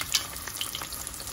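Wontons deep-frying in hot oil, a steady close sizzle with crackling pops and bubbling spatters throughout, no talk.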